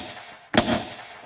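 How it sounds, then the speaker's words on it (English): A gunshot sound effect opens a hip-hop beat for 50 Cent's "I'll Still Kill": one sharp, loud crack that breaks off a soft lead-in and then rings out briefly, alone without talk. "At the beginning, there's like a gunshot thing that I use."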